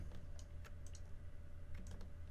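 Arrow keys on a computer keyboard are tapped in quick irregular clicks, close and fairly quiet over a faint steady hum, with no talking.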